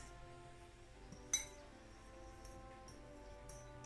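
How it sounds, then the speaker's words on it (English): Dry ingredients for keto garlic naan being stirred in a bowl: quiet, faint scraping and soft rustling with one sharp clink of a utensil against the bowl. "Let's start by combining all the dried ingredients together. And make sure you fluff it and mix it."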